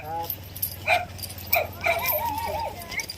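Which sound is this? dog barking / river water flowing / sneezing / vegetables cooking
dog barking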